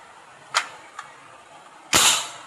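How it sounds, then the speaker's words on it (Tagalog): A gun test-fired without ammunition: two sharp snapping clicks followed by a louder, crisp blank-fire pop that trails off quickly, close and otherwise quiet. "So yan po yung putok niya pag walang bala."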